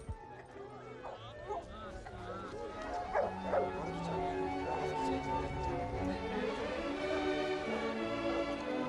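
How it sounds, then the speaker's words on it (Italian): Dogs such as Newfoundlands, Labradors and a Rottweiler training for water rescue, heard as scattered barks and yips at moderate distance beneath steady talk from people nearby and continuous background noise. "Oggi sono molti i cani che si esercitano ai corsi di salvataggio in acqua."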